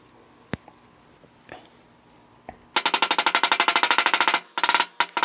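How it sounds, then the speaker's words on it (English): A new rear grease seal is hammered into a VW Beetle wheel hub with a few single metallic knocks, then a rapid burst of tightly spaced loud blows and a last short flurry. "we can bang in our new seal"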